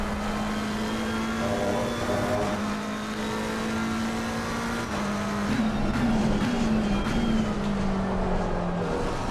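A McLaren 720S GT3 in a racing video game drives steadily, its engine holding a sustained drone that shifts pitch slightly as it revs and changes gear, loud and continuous with no talking.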